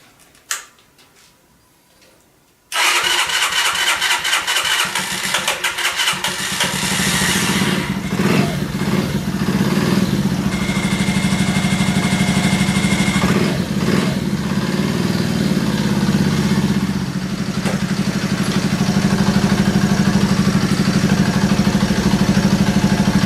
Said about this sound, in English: Now I want to crank the engine over and we'll see if it starts.